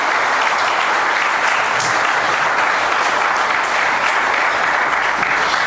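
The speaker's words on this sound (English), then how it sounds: "can we please have a huge round of applause for the chief guest" Dense, sustained applause from a large audience at a book release event, loud and continuous throughout with no break or voices standing out.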